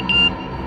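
Short electronic notification beep from a mobile phone, a single clear high tone lasting about a fifth of a second over a quiet room background.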